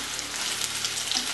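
Taro (arbi) pieces hit a hot frying pan for masala arbi and crackle with a faint, even sizzle. Scattered small pops sit over a soft hiss.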